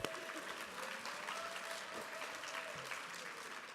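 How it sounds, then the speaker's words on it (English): Steady applause from a crowd at a Cesar Chavez celebration held at Colorado State University, with dense clapping sustained evenly throughout and no break. "Everybody give her a big round of applause for them."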